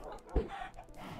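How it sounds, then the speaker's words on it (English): A chicken in Minecraft gives a single short, faint cluck over quiet game ambience. "Chickens just get in the way always."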